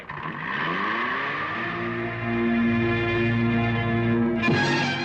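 A car pulls away, its engine revving up through rising tones and then holding a steady hum before a sudden shift near the end, fairly close and with no talking.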